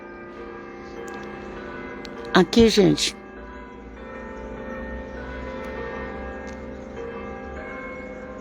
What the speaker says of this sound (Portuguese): O sino de 500 anos atrás,